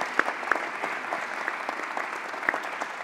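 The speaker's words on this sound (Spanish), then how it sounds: "un aplauso para Sonia" Audience applause at a mobility awards ceremony, a steady wash of many hands clapping with a few sharper claps standing out, moderately loud and continuous for a few seconds with no speech.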